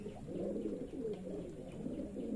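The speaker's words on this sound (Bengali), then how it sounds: "আপনাদের আমার কবুতর খামারের সকল কবুতরগুলাই দেখাবো আজকে।" Racing pigeons at a pigeon farm coo in soft, repeated rolling calls, several birds overlapping at a moderate distance, with no speech.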